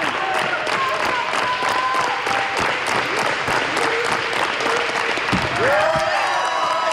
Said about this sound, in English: athletes clapped and hollered in hopes of uplifting their fellow competitors